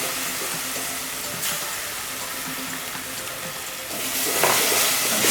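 Cassava leaves stirred with coconut cream in a hot pan, giving a steady sizzle with scraping stirs throughout and a brief running-water splash, growing slightly louder toward the end; no talking.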